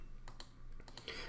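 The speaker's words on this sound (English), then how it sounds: "all I'm doing is hitting D on the keyboard" A few crisp computer keyboard key presses, spaced irregularly, made while working in OnShape CAD software, quiet and close with no voices.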